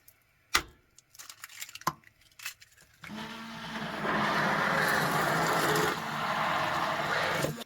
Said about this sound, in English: Next we're going to whisk up 4 eggs